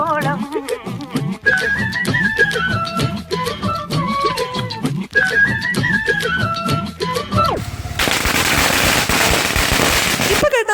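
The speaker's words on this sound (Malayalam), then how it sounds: "ഇപ്പൊ കേട്ട മാലപ്പടക്കം ഞങ്ങൾ ശരിക്കും പറ്റിച്ചു" A long string of Vishu firecrackers bursts in rapid continuous crackling, loud and close, ending in a dense hissing roar of smoke-filled bangs.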